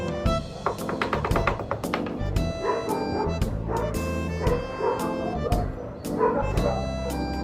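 A dog barks repeatedly in short yips and woofs, close by, with tapping and rustling around it.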